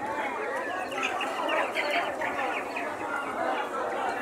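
Poultry cluck and chatter among crowd noise at an open-air street market in Serra Branca, Paraíba, where turkeys are sold; a dense, continuous clamor with scattered bird calls and voices throughout.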